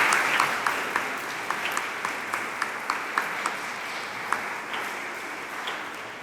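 A church congregation at Sunday Mass applauds in a soft, diffuse wash of clapping, with a few sharper individual claps standing out near the front.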